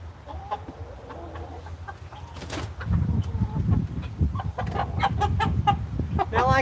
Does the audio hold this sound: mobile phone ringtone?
no